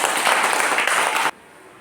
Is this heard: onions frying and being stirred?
no